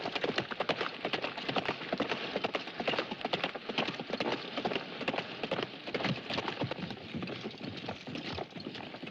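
Horse hooves clip-clop through a film scene, a dense, continuous patter of many hoofbeats at moderate loudness alongside rain-like noise, with no voices.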